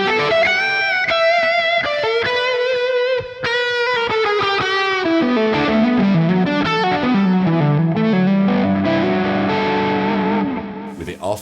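An electric guitar played through a Line6 preset with a light drive rings out in a flowing melodic line of sustained, slightly gritty notes, loud and close, ending in a brief strum.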